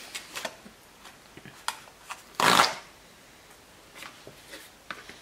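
Someone handles a stack of printed Valentine's cards. Soft rustles and flicks lead up to one brief, loud riffling burst in the middle, then quieter paper handling follows, with no talking.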